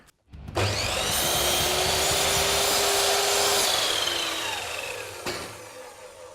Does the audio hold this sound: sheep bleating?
no